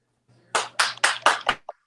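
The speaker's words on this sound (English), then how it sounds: "Who was that clapping?" Several people clap briefly, about five quick sharp claps in an even rhythm, fairly loud and close, followed by a small trailing sound.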